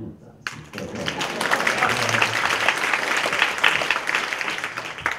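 Audience applause bursts out after a brief pause and holds as dense, even clapping from a room full of people at a government presentation, loud and close for several seconds.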